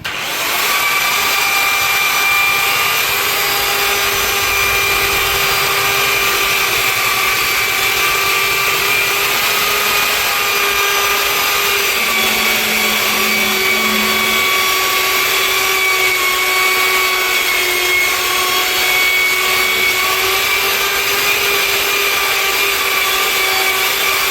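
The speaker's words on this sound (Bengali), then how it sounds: "এই প্যাডটা যত স্পিডে ঘুরছে এটা হিট হচ্ছে" A floor polishing machine spins its pad over an old epoxy floor, giving a loud, steady whining drone with sustained high tones that holds unbroken throughout, with no talking.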